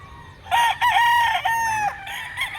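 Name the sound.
rooster crowing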